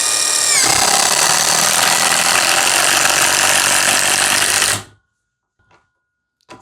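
A Hanabi LJ2022 impact wrench drives a 5/16 by 120 mm screw into well-worn wood. Loud rapid hammering lasts about four seconds, then cuts off abruptly into near silence with a couple of faint clicks.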